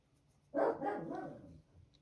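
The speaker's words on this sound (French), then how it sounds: "mon chien aboie" A single dog gives one loud, close bark that trails into a short grumbling growl, set off by a car parked in front of the door, in an otherwise quiet room.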